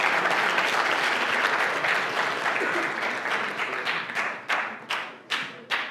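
Workshop audience of a few hundred applauding, dense and loud at first, then thinning into scattered separate claps and thumps toward the end.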